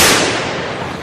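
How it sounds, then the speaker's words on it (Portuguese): Gunfire in a historical TV drama set in Dutch Brazil, heard as a dense, loud burst of crackling shots that fades slightly over about a second, with no talk over it. "Esses tiros, os portugueses estão a chegar."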